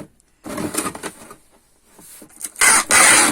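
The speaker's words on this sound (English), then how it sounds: "Forget how loud the tape is" Packing tape screeches off its roll while a parcel is being packed, in loud raspy tearing bursts: one longer pull early on and two harsh strips near the end, separated by quieter rustling.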